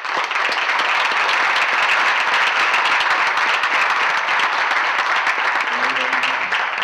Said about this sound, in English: How about a round of applause for our panel?